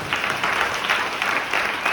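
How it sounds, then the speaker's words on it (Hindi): A church congregation at a Good Friday service claps steadily in a dense, even burst of applause lasting about two seconds. "ताली बजाइए उस परमेश्वर।"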